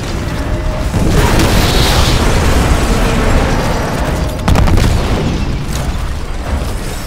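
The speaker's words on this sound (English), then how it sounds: "Nuke Titan approaching the harvester. Take it out before it detonates." A nuke Titan detonating in Titanfall, a loud sustained explosive roar and rumble filling the whole span, with a second burst midway, no talk.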